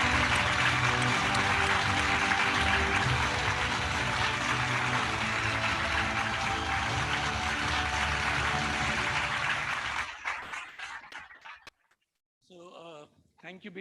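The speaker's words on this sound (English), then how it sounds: "Let's give them a huge round of applause, ladies and gentlemen." Audience applause at the BW Education Summit & Awards 2022 ceremony: a dense, steady wash of clapping that fills the hall for about ten seconds, then fades out as a speaker begins talking.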